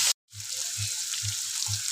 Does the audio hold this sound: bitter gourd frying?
yes